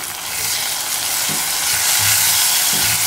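Coconut paste curry being stirred in a hot pan, a steady loud sizzle with soft scraping strokes of the spoon at a slow pace, no voices.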